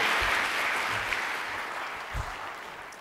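Audience at a keynote address in a conference hall gives sustained applause welcoming the speaker, a dense even patter of clapping that slowly fades over three seconds.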